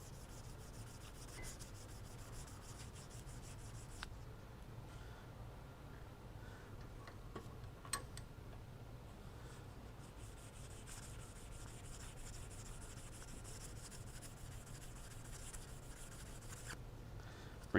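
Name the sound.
buffing a wheel bearing part to a mirror shine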